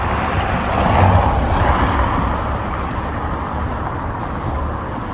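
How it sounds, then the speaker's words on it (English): A car passes by at night on a road, its engine and tyre noise swelling to a broad rumble early on and then easing into a steady background wash of traffic. "now car incoming"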